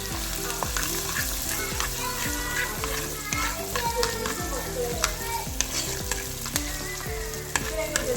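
Ginger and garlic sauté in a hot pan for a tuna fish curry, a loud steady sizzle and frying crackle running throughout with regular scraping stirs of a spatula.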